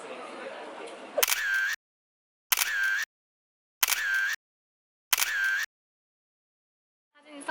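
Camera shutter firing as friends take photos of each other outdoors, four bursts of rapid clicking separated by sharp silences, close and loud, after a stretch of background noise.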